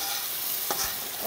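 Steady loud sizzle of onion and curry leaves fried in hot oil, with a brief splashing pour as the tempering goes into a dried shrimp curry.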